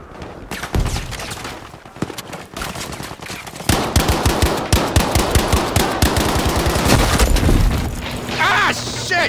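Rapid machine-gun bursts and single gunshots crack continuously in a Battlefield 5 skirmish on the Lofoten islands. Dense, loud automatic fire sits up close, with voices mixed in among the shots.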